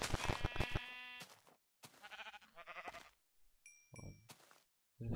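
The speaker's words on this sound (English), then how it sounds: "Oh, it's a sheep inside." Sheep bleating in the Minecraft video game, a few short close bleats with brief pauses between them, followed by a couple of chime-like dings, with no talking.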